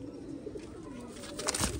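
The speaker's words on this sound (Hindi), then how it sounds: "देखें कबूतर की कासनी फिरोजपुरी" A Firozpuri kasni pigeon coos softly up close, a low throaty murmur running through the short stretch and swelling slightly near the end.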